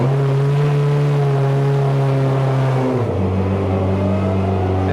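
Peugeot 406 Super Touring race car engine held at a steady high rev, then dropping sharply in pitch about three seconds in and settling to a lower idle, loud and close.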